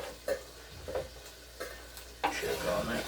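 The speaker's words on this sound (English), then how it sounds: "I can hear the bacon sizzling a little over there." Bacon sizzles softly in a pan in the background of a kitchen where peppers are being diced for chili, a steady faint crackle broken by sharp knocks and clatter.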